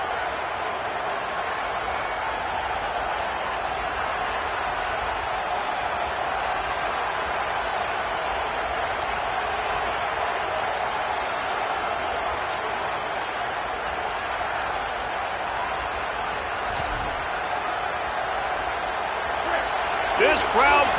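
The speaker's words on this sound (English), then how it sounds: "This crowd bringing the energy and noise early." A stadium crowd in an NCAA college football video game roars steadily, a dense wash of noise that holds through the whole stretch, with a few sharp thumps near the end.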